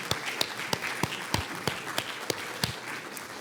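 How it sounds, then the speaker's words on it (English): Audience applause for a panel at a consumer finance field hearing in Louisville, a steady wash of many hands clapping in a large room with a few sharper individual claps standing out. "Please join me in another round of applause for our terrific panel."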